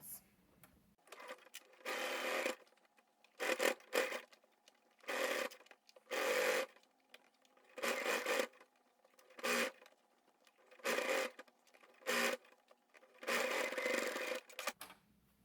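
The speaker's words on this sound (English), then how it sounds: "Okay, so now I'm going to sew around this edge, the 1/4 inch seam allowance." A sewing machine stitches a quarter-inch seam around a fabric Christmas stocking, running in short bursts of steady whirring separated by brief pauses, close and clear.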